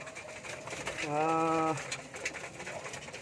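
A single soft pigeon coo rises briefly among feeding pigeons, mid-distance, over a steady background hiss, with faint voices nearby.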